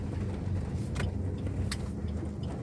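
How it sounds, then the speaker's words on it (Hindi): A stationary car idling with a steady low engine rumble throughout, close and continuous, with a couple of brief higher clicks or rattles over it. "अभी देखो, कार बिल्कुल आइडल है, स्टेशनरी है।"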